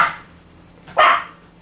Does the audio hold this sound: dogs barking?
yes